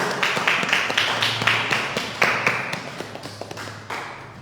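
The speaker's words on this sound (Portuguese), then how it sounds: "aplauda o Senhor" A church congregation applauds during a service with sharp, fairly rhythmic claps and some thumps, the claps close and steady throughout.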